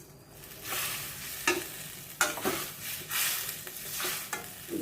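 Pabda fish fry in hot oil in a wide frying pan, a continuous bright sizzle with several sharp bursts and spatters as pieces are placed and moved, close and fairly loud, with no talking.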